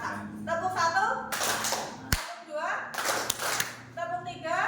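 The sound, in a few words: rhythmic hand clapping game in class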